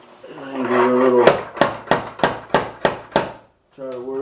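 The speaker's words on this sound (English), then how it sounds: "I got my little slide hammer here." Six sharp metallic slide hammer impacts strike in a steady rhythm while pulling out kinked body metal on a Subaru, with someone talking briefly before and after the blows.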